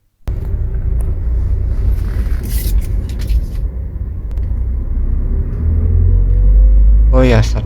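A car engine idles with a steady low rumble close by. A voice cuts in briefly near the end.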